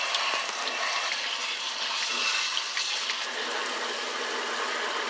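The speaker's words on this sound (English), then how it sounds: "Rinse the outside." Juicer parts rinsed under a running kitchen tap, a steady close hiss and splatter of flowing water that continues evenly without pause.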